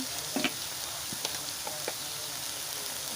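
Taro leaves frying in a pan, a quiet, steady sizzle that runs throughout, broken by a few small pops and soft stirring ticks, with no voices.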